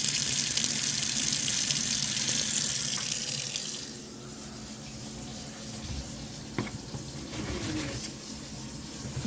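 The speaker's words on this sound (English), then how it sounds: "And let's turn the water on and see if it's leaking." Kitchen sink faucet runs water beneath a newly replaced garbage disposal, a steady broadband rush that drops sharply in level about four seconds in and continues more quietly with a few small knocks and clatters.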